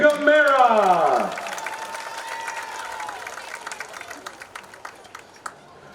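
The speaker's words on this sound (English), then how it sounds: "A big, nice round of applause for" A crowd at a high school football senior recognition in Guntersville applauds a player, bursting loud at first, then settling into steadier, thinning clapping with a voice carrying over the start.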